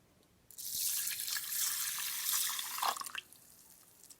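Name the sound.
water poured into pan for cooking rice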